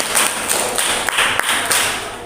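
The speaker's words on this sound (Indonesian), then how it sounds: "Kita beri tepuk tangan untuk kelompok yang ketiga." Classroom applause for the third student group after their presentation: a steady patter of many hands clapping for about two seconds, fairly loud and even, with a few sharper single claps standing out.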